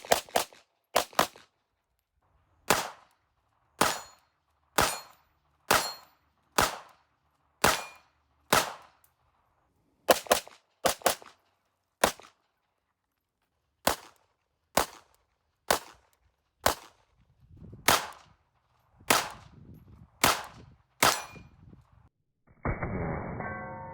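A CZ 83 pistol fired about twenty times: loud, sharp cracks spaced irregularly with brief silences between them, some in quick pairs, followed at the end by a burst of steady noise.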